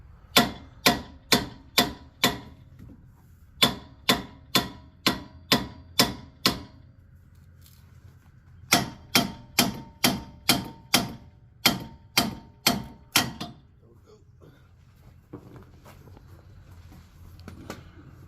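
Sharp metallic hammer blows strike the steering knuckle of a 2007 Jeep Grand Cherokee WK during CV axle repair. The rapid, evenly spaced strikes come in bursts of about five to eight, with short pauses between them, loud and close.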